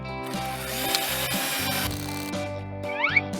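Screws being driven into wooden bunk bed parts, a close continuous mechanical ratcheting and grinding with rubbing wood, steady throughout with a couple of brief squeaky accents near the end, no voices.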